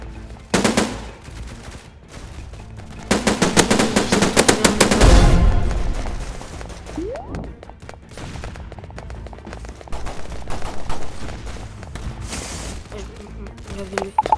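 A powerful weapon fires in the video game Hypershot: a loud, rapid automatic burst rattling for a few seconds and ending in a heavy thump, followed by scattered, quieter shots and game noise.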